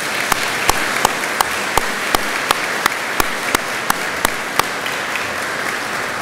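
An audience at an Indiana State Police class graduation ceremony applauds steadily, a broad wash of clapping with one sharp, evenly paced clapper standing out near the front.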